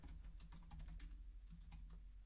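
A topic being typed on a computer keyboard, a quick run of faint, even key clicks, close and alone with no voices.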